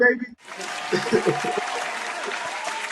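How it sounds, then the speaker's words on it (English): Applause and crowd noise swell in after a brief shouted intro at a boxing talk-show gathering, steady and dense with voices talking and chuckling over it throughout. "Give him a hand of applause"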